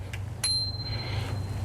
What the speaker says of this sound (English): Yeah, I've got a little bell here.